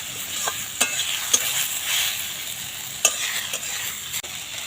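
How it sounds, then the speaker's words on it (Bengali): Jute leaves (pat shak) stirred gently in a pan, with a continuous soft hiss of cooking and a few light scraping knocks of the utensil at irregular intervals; no voices. "ধুয়ে নেব অল্প একটু নেড়ে নেব খুব বেশি নাড়বে না"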